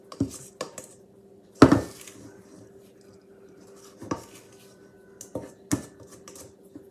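A utensil scrapes and knocks against a cookie dough bowl in several separate close clinks and scrapes. One sharper, louder clatter stands out near the start, with quiet pauses between the strokes.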